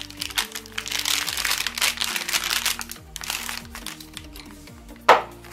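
An antistatic plastic bag crinkles and rustles steadily while a hard drive is unpacked from it, close and continuous, ending in one sharper crackle.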